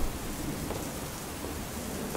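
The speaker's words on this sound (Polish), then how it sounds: "grzmoty, grzmoty mogą mnie zagłuszać" Thunder rumbles low and steady beneath dense, even rain hissing across a surface, a continuous wash of sound with no pauses.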